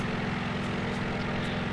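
The piston engine of a Japanese A7M Imperial Navy fighter in World of Warplanes drones steadily, a continuous propeller hum with a faint pulsing throb and brief whooshes layered over it, no speech.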